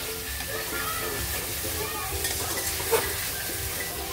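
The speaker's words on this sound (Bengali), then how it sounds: "এখন দইয়ের সঙ্গে ভালো করে চিকেনটাও মিক্সড করে নেব।" Chicken stirred with whisked yogurt in a hot pan, a steady sizzle with scraping stir strokes running throughout at moderate level, a voice speaking over it.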